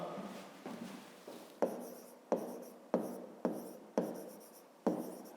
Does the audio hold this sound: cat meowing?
no